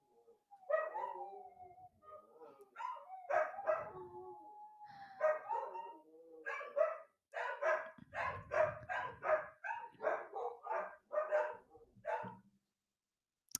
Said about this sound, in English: My dogs are howling at something out there.